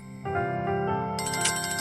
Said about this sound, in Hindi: इस टाइम वीडियो कॉल कर रहे हैं।